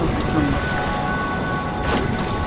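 A storm with rain and thunder rolls through the VR puzzle game A Fisherman's Tale, a steady wash of rain noise with a low rumble, as a voice speaks over it.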